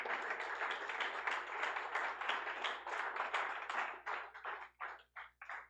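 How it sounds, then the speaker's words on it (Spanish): Applause for the artists rings out in a church, dense clapping that thins into a few scattered, spaced claps near the end. "Un aplauso para los artistas."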